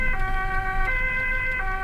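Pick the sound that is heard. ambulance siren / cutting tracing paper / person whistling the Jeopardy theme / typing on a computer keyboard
ambulance siren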